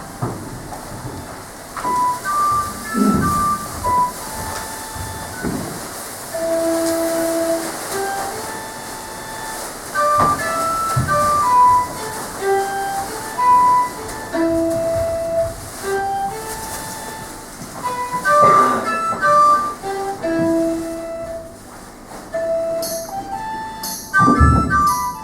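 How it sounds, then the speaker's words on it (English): Sound-effect style train at a railway station, steady rumble and clatter of rail cars with tonal squeals and brief whistle-like notes, continuous throughout at moderate loudness. "Sarah is arriving at Chester railway station with her older sister."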